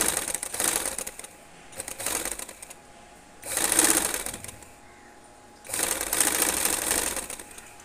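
A sewing machine stitching along the edge of a trouser pocket, running in three close bursts of fast, steady mechanical whirring separated by brief pauses.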